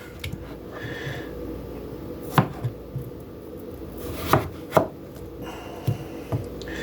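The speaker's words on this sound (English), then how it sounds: "Let's go cut these potatoes now" A knife chops potatoes for fries in a home kitchen, a handful of separate close thuds on a board spaced irregularly over quiet room tone, with no talking.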